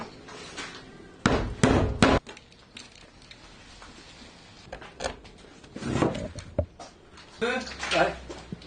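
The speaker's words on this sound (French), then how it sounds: "un coup de marteau." A few sharp hammer blows ring out, with a pair of loud close strikes early on and more taps later, alongside people talking nearby.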